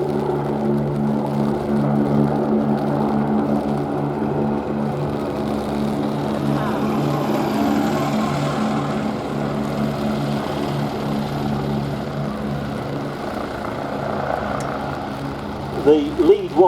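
A low, steady droning engine with rotor-like harmonic bands, sustained loud throughout as Westland Wasp helicopters fly past at an airshow, with faint voices underneath and a few bumps at the end.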